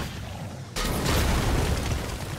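A sudden loud explosion in God of War bursts in after a quieter stretch, then rumbles on as a broad, sustained roar with debris-like crackle, close and heavy.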